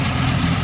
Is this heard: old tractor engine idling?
yes